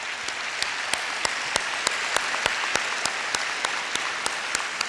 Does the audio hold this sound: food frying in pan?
no